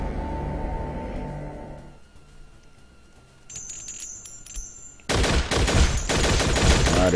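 Gunfire from the zombie-survival game Infectonator Survivors: a dense, loud burst of rapid shots bursts in near the end, after quieter game sounds and a brief high chiming tone.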